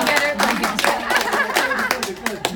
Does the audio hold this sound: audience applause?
yes